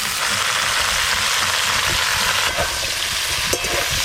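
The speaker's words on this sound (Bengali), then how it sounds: "সব কিছু একসঙ্গে খুব ভালো করে নেড়ে নিয়েছি" Pumpkin greens and stems with potatoes and jackfruit seeds frying together in mustard-poppy seasoning on a clay stove, a loud continuous sizzle with occasional scraping stirs, no voices.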